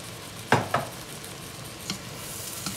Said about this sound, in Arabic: نقلب الروز